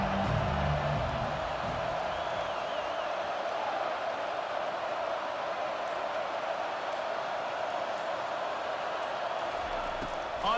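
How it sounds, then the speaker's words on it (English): A college football video game crowd of Clemson vs Oklahoma State roars in a stadium, a dense, sustained wash of cheering filling the whole stretch without pause. "Listen to this crowd just shaking the girders of this place"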